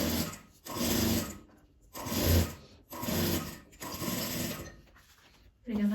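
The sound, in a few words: sewing machine stitching bias binding, with backstitch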